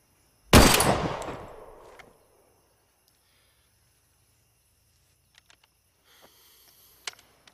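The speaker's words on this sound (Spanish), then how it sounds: "Vale, 3 disparos, ni uno más." A single loud gunshot cracks near, its echo decaying over about a second and a half, followed by near silence with a few faint clicks.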